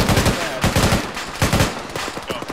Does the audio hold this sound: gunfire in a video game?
yes